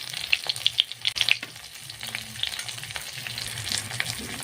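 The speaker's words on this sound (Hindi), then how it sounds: "अब मैं 2 से 3 मिनट तक अच्छे से मसाले को फ्राई कर लेती" Spice paste of ginger-garlic paste, cumin-coriander powder and red chili paste fries with onions in a pan for a drumstick-flower and egg dish, giving a steady close sizzle with scattered crackles and stirring scrapes.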